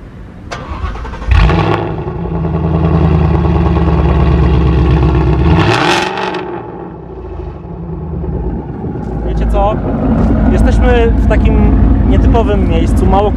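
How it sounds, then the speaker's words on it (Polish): A 550 HP Ford Mustang engine cranks to life with a loud bark, settles into a heavy rumbling idle, then is revved hard twice, close and very loud, with someone talking intermittently over it. "sprawdźmy więc, jak brzmi prawdopodobnie najgłośniejszy samochód w Warszawie"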